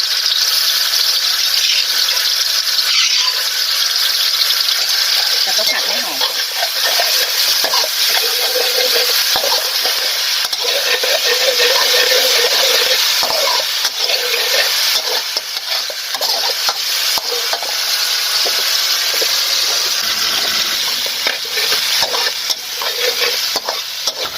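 Pounded chili and garlic being stir-fried in a hot pan for a Thai kale and pork dish, giving a loud, continuous sizzle with scraping stir strokes and no talking.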